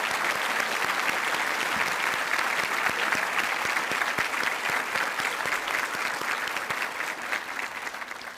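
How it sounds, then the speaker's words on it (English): A graduation audience at a high school ceremony gives a steady, sustained round of applause. Dense clapping from a large crowd fills the space, close and continuous, easing slightly toward the end. "So let's give them a big round of applause."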